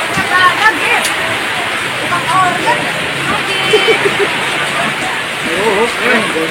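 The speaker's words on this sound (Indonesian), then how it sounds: "kehujanan jadinya bubar hujan" Heavy rain pours steadily over an outdoor singing performance, a dense continuous hiss with a crowd murmuring and voices talking underneath throughout.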